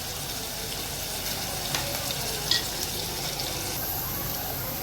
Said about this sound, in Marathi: कांदा शिजून घ्यायचा राई जिरा टाकले थोडा नरम झाला